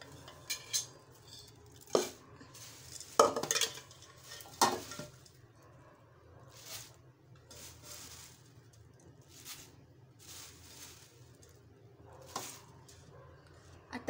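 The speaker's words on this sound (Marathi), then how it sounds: "आता उरलेले पातळ पोहे आपण भाजून घेऊया।" Thin poha flakes being stirred and dry-roasted in a pan for chivda, with soft scraping and occasional sharp clinks of a spoon against the pan over a quiet background, no talk.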